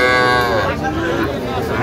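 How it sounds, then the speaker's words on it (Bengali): A heifer calf moos at a busy cattle market, a loud, close, drawn-out bellow lasting nearly two seconds with crowd chatter murmuring underneath. "বকনা বাচ্চা।"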